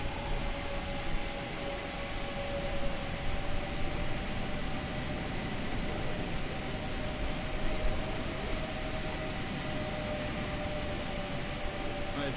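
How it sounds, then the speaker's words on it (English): A large cargo aircraft taxis to its parking stand at Abu Dhabi on arrival for Formula 1 season cargo operations, giving a steady broad jet-engine roar with a faint tonal whine, constant and unbroken throughout. "Nice big plane. We'll take up the big plane spot here."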